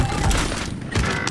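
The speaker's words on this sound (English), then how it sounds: "They're shooting at me." Dense gunfire fills a video game battle, with overlapping shots and booms crowding together in a loud, steady barrage that runs through the whole moment.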